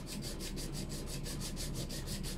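An acoustic guitar saddle being sanded by hand during a string height setup, a quick, regular back-and-forth rasping rub, about six strokes per second, close and steady.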